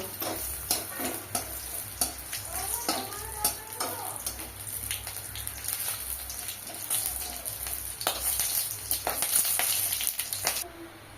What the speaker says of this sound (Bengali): এবার রসুন গুলো দিয়ে দেবো।